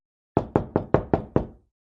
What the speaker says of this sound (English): There is another knock at the door.